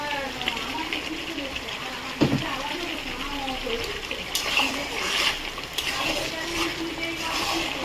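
Potatoes go into mutton cooking in a pot: a soft thump, then a continuous close sizzle and spatter with scattered wet pops, a voice faintly underneath.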